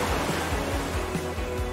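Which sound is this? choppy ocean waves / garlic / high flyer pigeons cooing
choppy ocean waves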